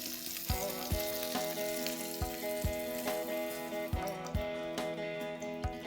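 Paneer shallow frying in oil in a kadai over low gas heat, a steady close sizzle with occasional soft taps and clinks of a utensil, and no talking.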